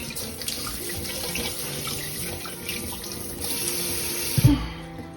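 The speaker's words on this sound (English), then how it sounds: "is wash the pumpkin." Tap water runs steadily into a sink while a pumpkin is washed beneath it, a continuous close hiss and splash with a brief louder knock near the end.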